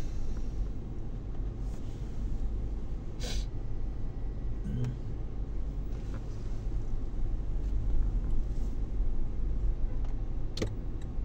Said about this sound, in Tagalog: Ay, traffic pa rin kahit saan.